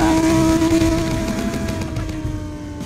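A Lamborghini engine in a Roblox game revs loudly and steadily, a sustained droning whine with strong tonal hum that eases slightly as it goes on, close and alone.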